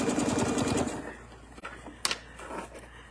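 A sewing machine stitches forward in a steady, fast mechanical whir for about a second while cross-hatch quilting with templates, then stops, leaving a few faint clicks and light handling noises.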